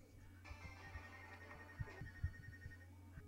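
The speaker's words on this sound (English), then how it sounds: "I got a phone call from one of my friends" A phone ringtone plays for a couple of seconds, a steady electronic tone over a low droning background with a few soft thumps, quiet overall.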